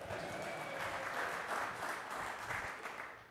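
An audience at a faith-in-the-workplace talk breaks into steady, dense applause that carries on evenly for a few seconds.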